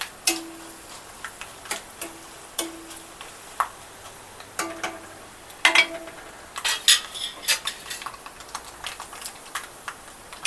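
Tempering spices with asafoetida crackle in hot oil on a stove, giving faint, sporadic pops and ticks at uneven intervals against a quiet background.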